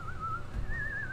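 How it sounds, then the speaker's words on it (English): A person whistles a steady, wavering tune in the background, a thin sustained note that drifts slightly in pitch over a low ambient rumble, fairly soft throughout. "A little whistle ambiance in the back"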